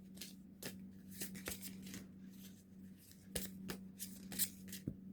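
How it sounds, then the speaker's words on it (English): A deck of tarot cards being shuffled, quiet riffling with sharp snapping flicks at irregular intervals, close and faint, with no talking. "I shuffled twice"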